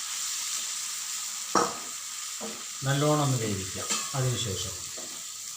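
Boneless chicken sizzles in a pan after sauce is added, a steady hiss of frying running throughout, with someone speaking briefly over it and a short clatter partway through.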